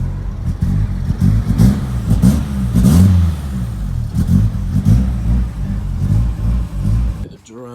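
A Nissan 180SX engine runs close and loud, revving in uneven surges with a throaty low rumble before cutting off, while a voice talks over it.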